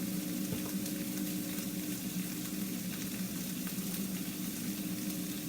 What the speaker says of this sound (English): While the meat's cooking, I'm gonna add a little bit of garlic powder.